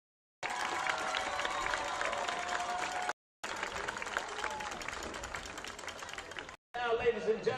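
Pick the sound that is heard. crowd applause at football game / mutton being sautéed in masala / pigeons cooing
crowd applause at football game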